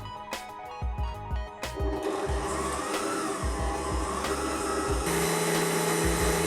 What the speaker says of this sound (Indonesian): Mixer dengan kecepatan sedang selama sekitar 2 sampai dengan 3 menit saja.